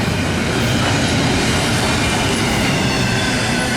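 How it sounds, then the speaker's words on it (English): Norfolk Southern NS204, a long intermodal freight train with Union Pacific GE locomotives pushing mid-train, rolls past at Magnolia with a steady, loud, continuous roar of wheels and cars and no break in the sound. "NS204 with a couple of UPGEs pushing in the middle, long train"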